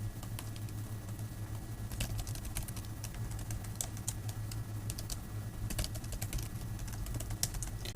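Quick keystrokes on a Mac keyboard as a password is entered, a steady patter of light clicks over a low background hum, close and fairly quiet.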